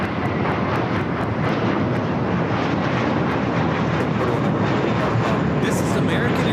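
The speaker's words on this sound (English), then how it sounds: "This is American Airlines Flight 12 taking off to Boston on the A321." An American Airlines Airbus A321 takes off for Boston at LAX, its engines making a loud, steady roar that holds throughout, with faint talk and a few sharp clicks over it.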